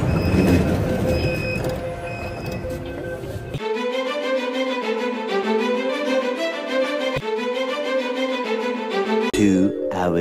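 A Delhi Metro train riding near Kalkaji, with a steady interior rumble and a rising electric motor whine that holds for several seconds, heard up close from inside the carriage.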